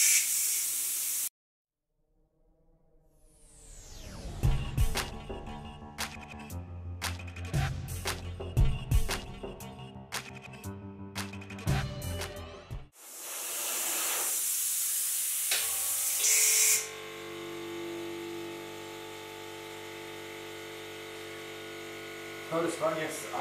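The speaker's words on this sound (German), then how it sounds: "wir werden jetzt aber mal die Airbrush betätigen, mal gucken, wie lange ich hiermit sprühen kann, bevor der Kompressor wieder anspringt." An airbrush at 2.5 bar with a 0.8 mm nozzle, fed by a Werther SilAir 50/24 compressor tank, sprays in a loud, steady hiss that starts, cuts off, then resumes in a long continuous stretch amid tapping and clicking handling noises.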